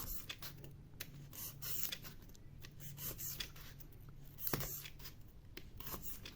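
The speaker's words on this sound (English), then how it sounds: "cut down all the way around the edge" Cutting around the edge of a piece for a 1/35 scale Roman ruins diorama produces faint, irregular scraping and rasping strokes that continue steadily through the clip with no talk.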